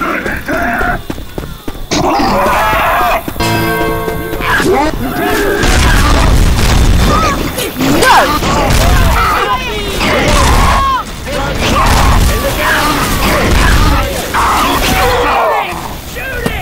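Rumbling pyrotechnic booms in Left 4 Dead go on continuously and loudly, with crashes and clattering mixed in, while people talk and exclaim over the din.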